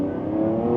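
An electric performance car in performance mode accelerating hard, a loud, steady, rising electric motor whine with road roar, close by and uninterrupted for under a second.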